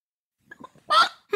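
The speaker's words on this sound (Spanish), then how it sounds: "soltó un fuerte cloqueo que despertó al ogro" In a Wii video game, a few soft clucks lead into two louder, sharp hen squawks close up, brief and bright.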